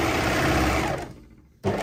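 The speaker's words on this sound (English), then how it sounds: "I'm just going to whiz those up on my overlocker straight away" An overlocker stitches straight seams on skirt pieces, giving a fast, loud whirring burst that runs about a second and trails off, then a second short burst follows. No voices.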